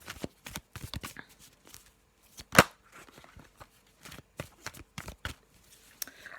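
A Black and White Faulkner tarot-style deck handled and shuffled at close range, a run of quick dry card flicks and riffles with one sharper snap in the middle, no talking over it.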